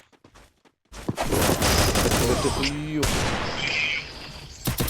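Rapid bursts of gunfire in the Free Fire mobile battle game, dense and continuous after a brief quiet start, with a person exclaiming over it.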